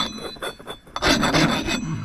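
Short rasping skims scrape across copper-coated yellow brass scrap, a few scratchy strokes close by, with no talk.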